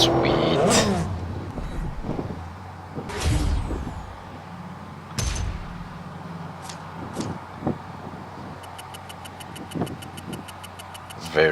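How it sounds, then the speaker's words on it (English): Aston Martin Vantage engine in the Real Racing 3 racing game, a steady mid-pitched idle with several sharp revving bursts and a rapid high chirping pattern near the end, partly under talk. "I rather like the way it sounds. Aston Martin does not disappoint."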